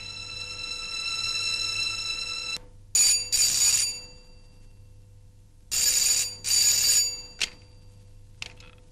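An old telephone rings loudly in a Telugu movie scene: a steady electronic tone followed by repeated bright bursts of ringing, with short silent gaps and no speech.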